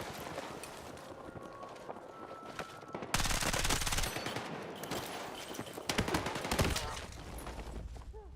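Rapid bursts of Vector submachine gun fire in the video game Battlefield 6, loud and close, dense automatic fire with brief pauses over a busy battlefield din.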